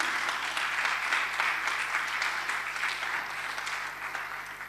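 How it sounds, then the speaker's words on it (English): Deeper Life Bible Church congregation members clap for themselves in a sustained, dense round of applause at an even level, with a steady low electrical hum beneath it. "And you should really clap for yourself."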